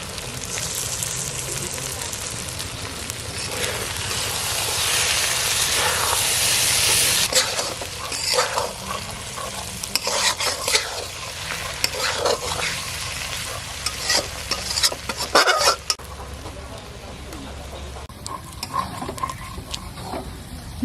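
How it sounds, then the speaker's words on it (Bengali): Fried prawns go into a pan of kochur loti, which sizzles hard while a spoon scrapes and stirs in uneven bursts, and a voice talks over part of it. "এখন এর ভিতর চিংড়ি ভাজাটা দিয়ে দেবো"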